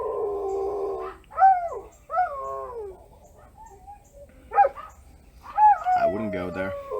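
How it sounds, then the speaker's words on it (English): A dog howls in several long, wavering, rising and falling cries close by, with short pauses between them and a final drawn-out howl. "There's my dog howling."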